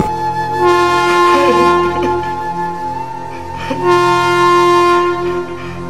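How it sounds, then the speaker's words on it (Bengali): A loud train horn blares as a sound effect in a thriller audio drama, a long sustained blast that swells, dips briefly and sounds again, with no voices over it. "ট্রেনের হর্ন"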